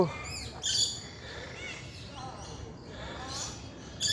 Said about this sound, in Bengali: তবে অনেক পাখির কিচিরমিচির আওয়াজ আমি শুনতে পাচ্ছি